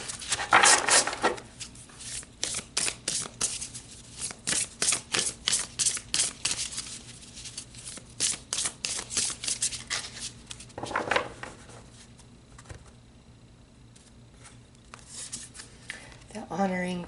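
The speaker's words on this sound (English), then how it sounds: "let's pull some more cards" Tarot cards are shuffled in quick, crisp bursts of riffling and flicking that run through most of the stretch. A short pause comes near the end before a few final shuffles.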